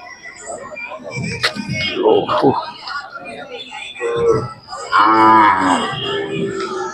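A Khillar cow from the Karnataka border area moos at a cattle market in Sangola, with long, loud, tonal calls rising near the end, while people talk close by.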